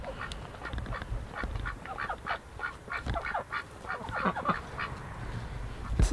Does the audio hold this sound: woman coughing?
no